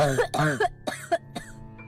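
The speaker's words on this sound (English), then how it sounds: "A coughing racks my body now that I don't feel like choking." A single person coughs in several close, harsh, hacking bursts with throaty, voiced rasping between them, fading to a faint wheeze.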